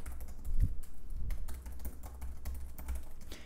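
Typing on the keyboard of a Xiaomi Air 13 laptop: a steady run of soft, close keystroke clicks over a low background rumble, with no talk.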